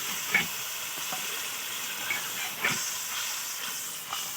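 Spice paste for a silver carp fish curry fries in hot oil in a pan, giving a steady close hiss and sizzle with a few soft pops and stirring scrapes throughout.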